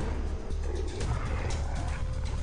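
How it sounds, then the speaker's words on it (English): A pack of wild dogs barks and snarls in Far Cry 3, a shooter game, with several overlapping yips and growls in a dense, continuous burst amid game ambience. "Big pack of wild dogs."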